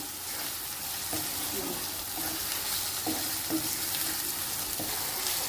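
Tomatoes frying in a pan for an Andhra-style broiler chicken curry give a steady broad sizzle, with a few soft stirring scrapes and clinks at intervals and no voices.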